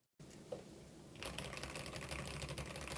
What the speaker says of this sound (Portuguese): Dá para ouvir bem mais, né, as teclas.